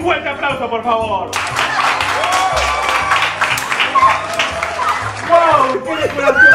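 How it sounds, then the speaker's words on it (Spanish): Applause from a studio audience at a Christmas cooking competition, steady clapping with some cheering and chuckles mixed in, while background music plays and voices call out over it. "aplauso, por favor."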